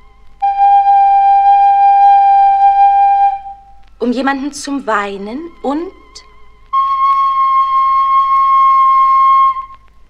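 Two long, steady whistle-like tones from a magic flute with clear harmonics, each lasting a few seconds, separated by a short stretch of speech.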